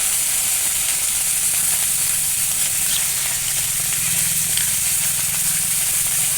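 Cashew, poppy seed and sesame paste fries in a pan for a cauliflower roast, giving a loud, steady sizzling hiss that runs unbroken throughout.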